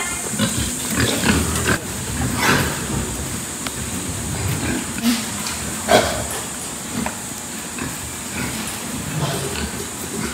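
Hungry, fast-growing pigs on a Filipino farm grunt and oink in an ongoing jumble, with several loud close grunts standing out over steady pen noise.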